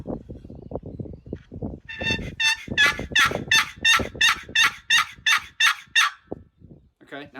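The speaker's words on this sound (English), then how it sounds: "If you grip a box call tight, right, you're making a sound." A turkey box call gripped tightly produces a run of about eleven rapid, evenly spaced yelps, loud and close, after someone talks briefly at the start.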